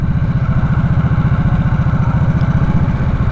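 A 2024 Harley-Davidson Nightster 975 motorcycle engine idles loud and close, with a steady, deep, rapid pulsing rumble and light mechanical clatter and no talk.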